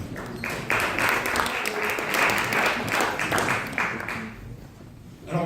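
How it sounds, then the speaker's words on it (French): A conference audience bursts into sustained, dense applause for about four seconds before it thins out and fades, heard fairly close. "On va les applaudir avant même qu'ils parlent."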